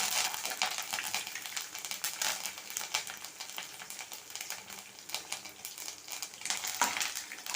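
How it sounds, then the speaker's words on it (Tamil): Mustard seeds, chana dal, urad dal, peanuts, green chili and curry leaves sautéing in hot oil in a pan for coconut rice, a continuous close crackling sizzle with stirring, no talk. "எல்லாத்தையும் சேர்த்து கொஞ்சம் வதக்கிக்கலாம்."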